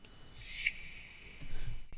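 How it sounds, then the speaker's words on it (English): A reversed, chopped percussion hit from a loop swells up softly and rises into a cutoff, a single faint airy whoosh alone. "I've just chopped one of the hits and reversed it, so it sounds like this"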